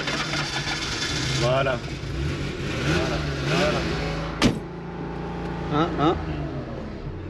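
A car without power steering or ABS is driven at full throttle, its engine note rising and falling in repeated revving sweeps beneath close conversation, with a sharp knock partway through.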